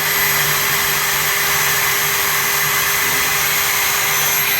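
An HSK plastic welder purges green plastic through its barrel, giving a loud, steady machine hum with a constant tonal whine and no variation, close by and alone.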